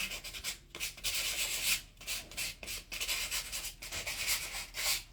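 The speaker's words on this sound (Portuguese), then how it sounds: "E eu tô lixando em volta pra ficar mais natural também" Rhythmic rasping strokes of hand sanding MDF and wood, steady back-and-forth scrubbing with brief pauses between passes, close and fairly loud.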